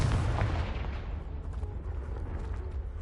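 A Confringo blasting spell explodes in Hogwarts Legacy, a loud low rumbling blast that roars at full strength then slowly settles into a dense crackling tail over a few seconds.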